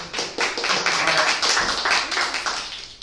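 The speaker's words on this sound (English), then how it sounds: "thank you for the tremendous round of applause" Dense, sustained applause from a crowd, steady loud clapping filling the whole stretch without pause.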